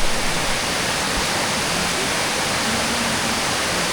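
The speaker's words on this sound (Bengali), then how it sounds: "দেখুন বন্ধুরা জলটা গিয়ে একটা গুহার মধ্যে ঢুকছে" Changey Falls waterfall water pouring into a cave on a trek route near Kolakham, a loud, continuous broadband rush of falling water with no voices over it.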